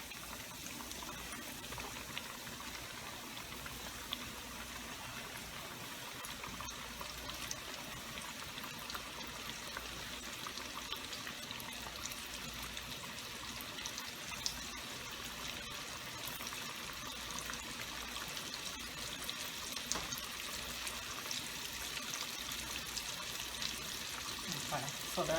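Fish and shrimp frying in hot grease, a steady soft sizzle and crackle that runs unbroken, fairly faint and even throughout.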